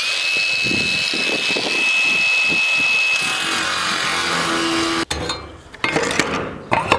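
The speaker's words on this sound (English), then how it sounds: "Righto, let's start grinding." An angle grinder cuts a vent hole through the steel wall of a shipping container, a loud continuous whine for about five seconds, then broken bursts as the cutting stops and restarts.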